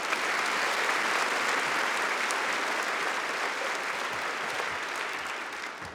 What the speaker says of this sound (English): So please give yourselves a round of applause for being here bright and early.